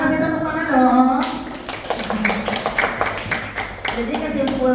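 Pupils in an Indonesian primary classroom clap for a classmate during a lesson, a patter of scattered claps rising after a teacher's voice and continuing under her talk.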